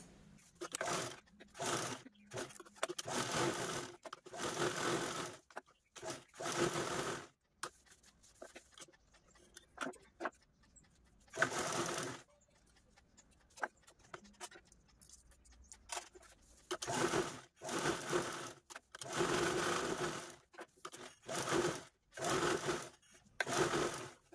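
A sewing machine quilting layered fabric of lining, foam and main cloth runs in repeated short bursts of rapid stitching, separated by quiet gaps, close and moderately loud.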